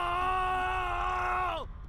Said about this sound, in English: Scream boldly.